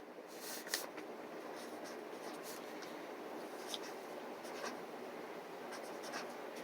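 A pen scratches on paper in short, quick strokes and brief pauses, close and fairly quiet, with no one talking.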